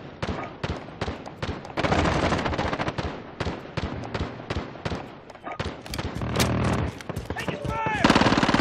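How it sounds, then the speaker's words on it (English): An automated sentry gun in a Black Ops shooter game fires rapid repeated bursts of gunfire, loud and rhythmic across the whole stretch, mixed with other battlefield shots and brief game voice chatter. "Sentry gun active."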